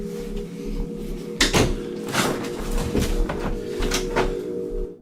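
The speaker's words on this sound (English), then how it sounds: "The door slams shut on its own" A door bangs shut unprompted in a house, several sharp thuds and knocks over a constant low mechanical hum, close and fairly loud.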